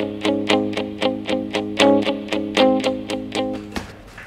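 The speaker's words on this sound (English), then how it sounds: "You're going to muffle the strings with your hand and give it that muted tone." A palm-muted electric guitar plays the repeating eighth-note riff of a song, picked in a steady rhythm of short, damped notes that ends with a single ringing note.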